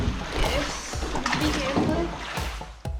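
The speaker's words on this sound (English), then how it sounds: "These boats are rowed by local men and women." A rowboat glides through a cave on the Trang An boat tour in Ninh Binh, oars dipping and water splashing and sloshing nearby in an echoing space, with soft voices mixed in.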